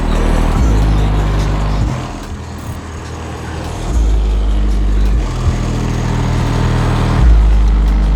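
A Mercury Marauder rolls along a freeway, its engine a loud, steady low drone with droning harmonics that swell and dip as it cruises, no voices over it.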